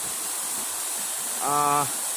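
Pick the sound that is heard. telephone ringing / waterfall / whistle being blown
waterfall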